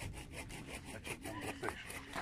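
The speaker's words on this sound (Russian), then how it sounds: "Ну я это тоже пилю." A hand saw rasps through wood in quick, regular back-and-forth strokes, close by and fairly quiet.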